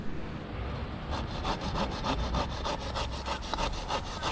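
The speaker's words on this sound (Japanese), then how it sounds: "枯れ枝を切ります。" A hand saw cuts through a dead branch on a pruned osmanthus tree, giving steady, rhythmic rasping strokes close up, with no voices.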